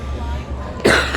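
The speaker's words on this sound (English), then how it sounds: "Didn't mean to cough in this video." A single sharp cough from a nearby person, loud and abrupt, following a moment of quieter breathing and room tone.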